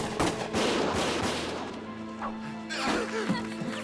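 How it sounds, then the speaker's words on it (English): A burst of rapid gunfire and crashing impacts in the video game Valkyria Chronicles fills the scene, dense and loud, easing briefly before more shots crackle in. "Gunfire!"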